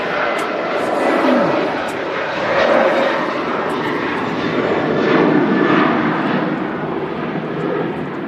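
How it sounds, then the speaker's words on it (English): Jet airliner departing Manchester Airport for Larnaca, heard as a loud, sustained engine roar that swells and eases in slow waves over eight seconds, close and dominant, with no clear talk over it. "This aircraft off to Larnaca."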